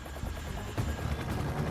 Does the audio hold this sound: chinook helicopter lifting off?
yes